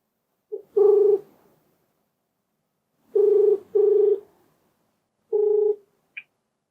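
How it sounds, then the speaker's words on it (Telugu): A telephone call is dialled: five short, clear electronic tones sound singly and in a close pair, followed by a brief higher blip, all set against silence. "ఒకసారి కాల్ చేస్తానండి."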